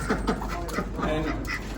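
A duck quacks repeatedly over steady background noise, with a voice talking nearby.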